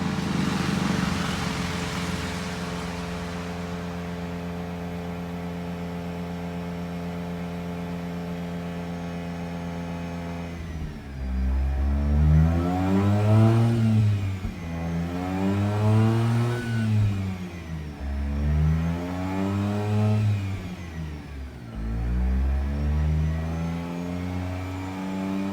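Mazda RX-8 that had trouble starting, heard close up: a steady idle for about ten seconds, then a series of loud revs that rise and fall in repeated surges.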